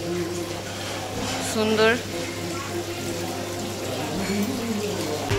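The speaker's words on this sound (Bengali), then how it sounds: "এখানে পাহাড় থেকে জল পড়ছে" Water falls from an artificial hill at a restaurant, a continuous splashing rush that stays steady beneath a family talking nearby, with faint music in the background.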